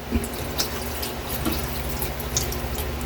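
Water runs steadily over stingray meat being washed with vinegar in a kitchen sink, a constant close splashing stream with scattered drips and faint clinks.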